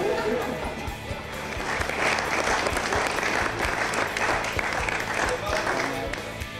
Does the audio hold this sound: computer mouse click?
no